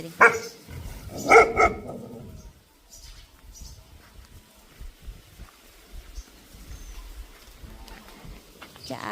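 A couple of sharp dog barks ring out at the start, then quieter rustling and faint background noise follow.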